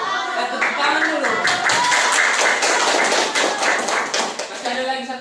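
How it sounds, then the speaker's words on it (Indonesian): An audience at a school science literacy presentation on biotechnology claps loudly and steadily for several seconds, a dense close burst of applause with voices mixed in. "Tepuk tangan dulu."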